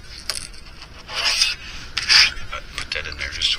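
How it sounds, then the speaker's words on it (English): Close, scratchy sanding strokes in short bursts, a rough rasp rubbing back and forth across a small plastic mouse fishing lure. "by sanding it right now"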